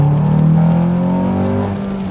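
A Honda Accord drives along with its engine humming steadily and loudly up close, a sustained droning tone shifting slightly in pitch as it eases off.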